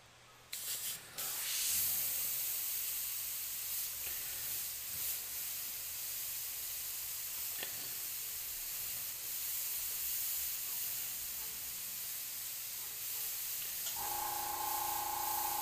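An airbrush sprays paint in a steady, close hiss that runs without a break for about thirteen seconds after a few short opening bursts, then cuts to a different hum at the end.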